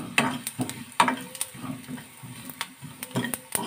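Coriander and cumin seeds sizzle in hot oil in a pan, with uneven crackles and sharp pops under a low, soft frying hiss. The sound is close and no one speaks.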